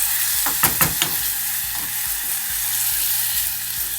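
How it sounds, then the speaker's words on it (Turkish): A spoon stirs onion stuffing in a pan after salt and water are added, with a few sharp scraping knocks near the start over a steady, loud sizzle and hiss. "yarım çay kaşığı tuz ve yarım çay bardağı su ilave ediyoruz. Güzelce karıştırıyoruz."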